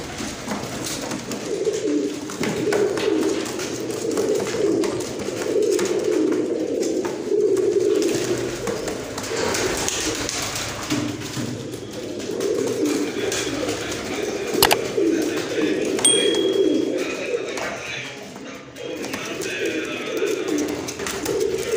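Pigeons coo steadily in soft, overlapping low calls, with occasional rustles and a faint human voice in the background.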